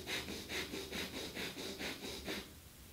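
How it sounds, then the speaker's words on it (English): Rapid, rhythmic breath-of-fire breathing exercise, about seven sharp forceful exhalations through the nose at an even pace, close and fairly loud with no talking. "You stretch up like this, the breath of fire."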